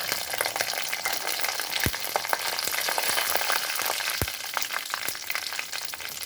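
Dried red chillies and mustard seeds fry in hot oil on a high gas flame for sambar dal, giving a steady close sizzle with sharp pops and crackles scattered throughout.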